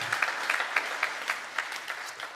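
A church congregation applauds warmly during a Sunday service, a steady patter of many hands clapping at moderate volume without any talk.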